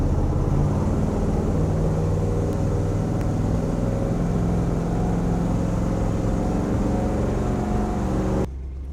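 A brand new 1920s car accelerates on the road with a steady, loud engine drone throughout, dropping off abruptly at the very end.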